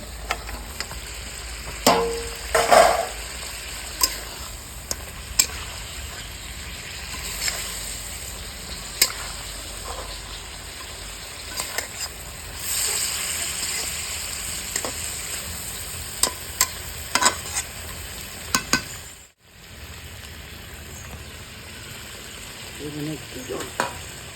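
Fish sizzles steadily in a pan over a village clay stove for Bengali home cooking, with scraping stirs and a few sharp clinks scattered through, and a brief near-silent break late on.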